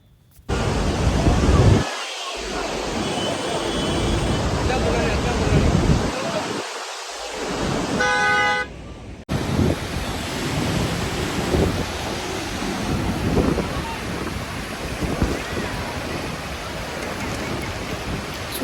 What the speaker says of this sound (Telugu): చూడండి వర్షం ఎలా పడుతుందో డ్యామ్ నుంచి